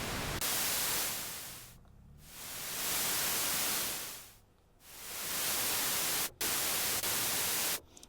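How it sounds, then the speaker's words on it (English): Hiss from the noise source of a restored 1973 Minimoog Model D synthesizer with its oscillators off, a loud steady wash of static that swells and dips several times and briefly cuts out near the end. "I'll turn the oscillators off here, and I'll show you the noise source works"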